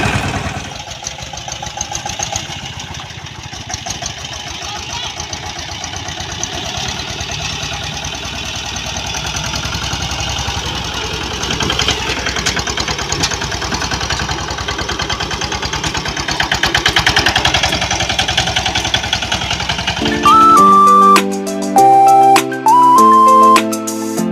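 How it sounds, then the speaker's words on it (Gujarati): A loaded tractor's engine runs steadily at a low rumbling idle, close by, with a few tonal electronic beeps near the end. "ટ્રેક્ટર ભરી દીધું છે અને પાછું આપણે અહીં ઓલા રસ્તેથી કાઢવાનું છે"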